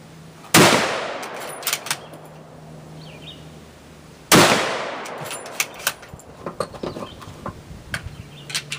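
Two loud, sharp gunshots from a Remington 700 bolt-action rifle, spaced about four seconds apart, each with a trailing outdoor echo, followed by lighter clicks and clatter of the bolt being worked.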